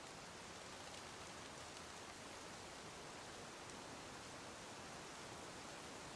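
Steady, dense hiss of rain, even and unbroken throughout, like a continuous shower falling on surfaces nearby.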